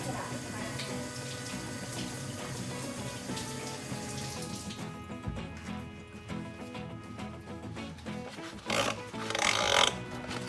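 Tap water runs steadily into a sink while hands are washed before cooking scrambled eggs, a continuous rushing splash that swells louder near the end.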